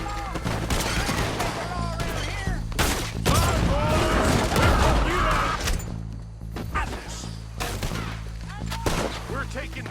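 Gunfire against raiders in Red Dead Redemption 2: repeated loud shots and crashes mix with shouting voices in a busy, continuous firefight.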